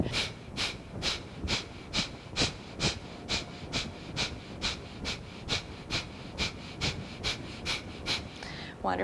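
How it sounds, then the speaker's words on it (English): Quick, forceful breaths out and in during a breathwork exercise repeat in an even rhythm of about two per second, close and steady with no talking. "you're just breathing out like that and breathing in like that"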